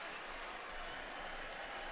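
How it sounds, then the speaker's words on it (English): Buffalo Bills fans cheer and applaud inside the stadium at the end of an NFL game against the Washington Commanders, a steady, distant wash of crowd noise holding evenly throughout. "a lot of Bills fans stuck around to cheer on their team here at the end of this one"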